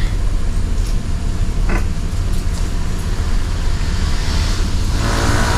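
Steady, loud road drone from inside an intercity sleeper bus cruising the Trans Sumatra toll road, a constant low engine and tyre rumble with wind hiss that holds even throughout, no one speaking.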